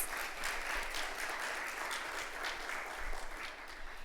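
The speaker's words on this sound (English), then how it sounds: "let us thank the members of the Tobago Performing Arts Company with another hearty round of applause" Applause from an audience at a broadcasting union's opening ceremony honours a performing arts company: dense, sustained clapping fills the hall at moderate volume without a break.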